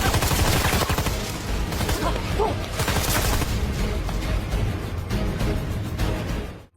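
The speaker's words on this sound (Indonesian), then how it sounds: "Mr. Yang tiba-tiba datang dan langsung menyerang para jamet dengan tembakan yang bertubi-tubi" Relentless rapid gunfire in an action film fight scene, loud bursts of shots and booming impacts piling over one another with no pause.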